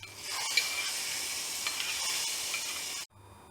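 Hot ghee with roasted cashew nuts is poured into a pot of avil payasam, giving a loud, steady sizzling hiss that lasts about three seconds and then cuts off abruptly.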